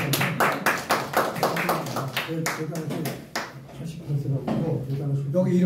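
An audience at a seminar lecture on hospice and well-dying claps in a quick run of sharp, rhythmic hand claps for a few seconds before a voice takes over and keeps speaking.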